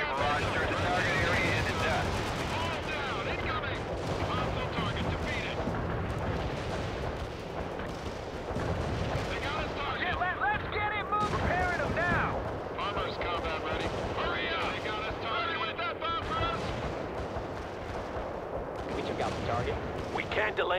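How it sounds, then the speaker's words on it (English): An artillery barrage in the game World in Conflict, with steady rumbling impacts and gunfire running throughout under voices talking. "Artillery barrage through the target area."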